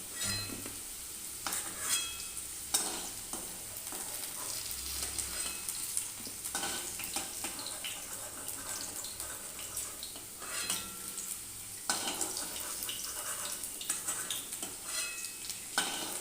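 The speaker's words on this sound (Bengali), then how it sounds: "কাঁচকলা আলু আমার লাল লাল করে ভাজা হয়ে গেছে। এবার আমি আস্তে আস্তে এটাকে তুলে নেব সবজিগুলো সব।" Fried green banana and potato pieces are stirred in a pan, a steady close sizzle of oil running throughout with repeated scraping and clinks of a utensil against the pan, no voices.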